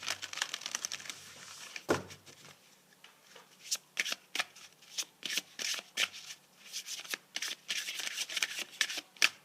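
Oracle cards being shuffled by hand: quiet, uneven bursts of crisp riffling and slapping, one sharper knock early on, then a quick run of short card flicks close to the listener.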